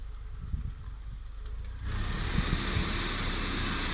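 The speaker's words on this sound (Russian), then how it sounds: "идет дополнительная нагрузка на двигатель" A Mercedes W202 engine idles with headlights, rear window heater, fan and cabin heater all switched on as extra electrical load; a low, steady hum that turns into a broader, louder whir partway through and then holds.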